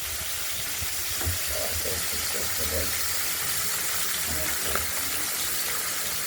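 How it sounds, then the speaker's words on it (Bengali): Rag bata fish from the Ganges fry in hot salted oil with a loud, continuous hissing sizzle. A faint voice drifts underneath for a moment. "বাটা মাছগুলোকে এবার ভালো করে ভেজে নেবো"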